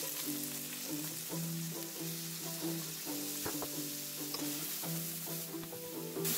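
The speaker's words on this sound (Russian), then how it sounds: "Сладкий перец и сельдерей я отпассерую на сковороде до полуготовности." Sweet pepper and celery sautéing in a frying pan give a steady, even sizzle that runs throughout, moderately quiet under background music.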